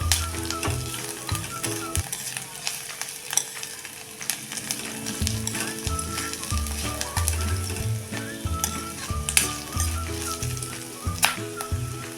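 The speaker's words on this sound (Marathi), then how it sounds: "आता आपण त्यामध्ये टाकूया हे किसलेलं आलं आणखी एक दोन मिनटं परतून घ्यायचं आहे" Grated ginger and onion fry in oil for a potato bhaji, a constant close sizzle overlaid by frequent clattering and scraping spatula strokes in an uneven rhythm.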